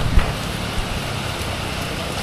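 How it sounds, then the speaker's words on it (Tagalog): Steady rain patters on surfaces in a continuous soft wash on the road near Batangas, with a faint tap early on and no voices. "Mahirap kasi masyadong malayo pa para magpa-ulan tayo."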